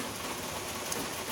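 Heavy rain from Super Typhoon Mangkhut falling outdoors in Hong Kong makes a steady, dense hiss with no pauses and no voices.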